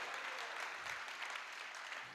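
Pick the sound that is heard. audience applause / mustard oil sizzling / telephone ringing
audience applause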